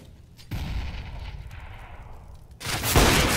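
Grenade blasts in Counter-Strike, a heavy boom at the start of a rumbling burst, then a second louder explosion near the end, loud and close with no talking.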